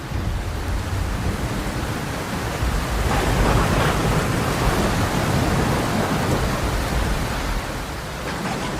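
Heavy, steady rain roars throughout, with a deep rumble of thunder swelling in the middle before easing back.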